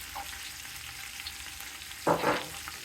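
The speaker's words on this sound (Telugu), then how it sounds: "దూరగా వేగిన తర్వాత కరివేపాకు వేసుకోవాలి పచ్చిమిరపకాయలు" Curry leaves and green chillies sizzle in hot oil for mutton pulao, a steady close frying hiss with a louder sputtering burst near the end as more goes into the pan; no talking.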